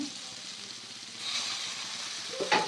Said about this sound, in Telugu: ఇవైతే బాగా వేగేయండి.